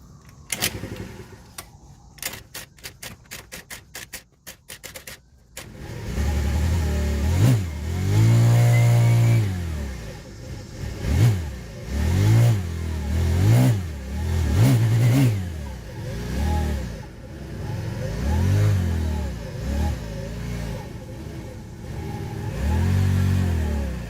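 A TaoTao 50cc Chinese scooter engine, bought not working and under repair, starts after a few seconds of rapid clicking, then revs up and down repeatedly with the throttle, loud and close throughout.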